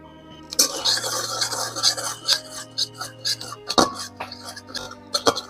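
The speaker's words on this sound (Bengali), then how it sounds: "দেখো এবার সুজিটাকে আমি শুকনো খোলায় ভেজে নেব।" Semolina dry-roasts in an ungreased pan while being stirred, making intermittent scraping and clinking strokes of the spoon against the pan in an irregular rhythm, close and fairly loud.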